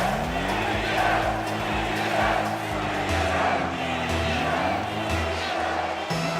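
Large arena crowd at a Rocket League major cheering for BDS, a sustained roar from a packed LAN venue with steady loud noise and swells, a commentator's voice and music running over it.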